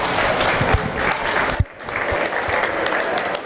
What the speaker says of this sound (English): Give a round of applause for these great looking Holstein heifers.